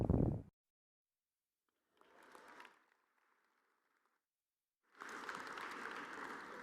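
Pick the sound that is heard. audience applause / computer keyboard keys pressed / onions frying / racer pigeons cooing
audience applause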